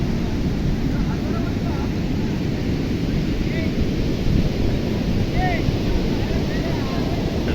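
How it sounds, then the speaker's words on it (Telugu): Strong sea waves surge onto a beach in Goa, a steady, loud roar of surf mixed with wind rumble that holds constant throughout, with no break between swells. "ఇదిగా ఇక్కడికి వచ్చింది వాటర్. అంటే ఫోర్స్ చూసారా ఎంత ఎక్కువగా వస్తుందో ఈ బీచ్లో"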